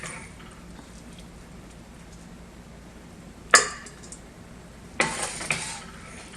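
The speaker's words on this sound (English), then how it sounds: "So now with a slotted spoon, I'm going to go ahead and transfer the peppers back into my bowl." Cooked mixed peppers lifted from a pot into a bowl with a slotted spoon, heard as a quiet kitchen background broken by one sharp metallic clink and then a short cluster of scraping, clattering knocks.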